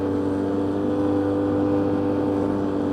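Polaris quad engine held at full throttle, a loud steady droning hum with strong tonal whine, close and unbroken throughout.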